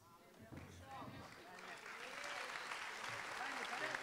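An audience at a book-fair talk applauds, the clapping building steadily from moderate to fuller and louder over a few seconds, with a speaker's voice faintly audible early on.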